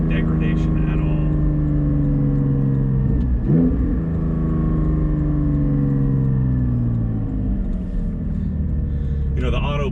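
A Porsche GT4 with a Soul Performance over-axle exhaust pipe rumbles at steady cruise with smooth, rising and falling engine tones under the cabin noise, with a brief shift blip partway through.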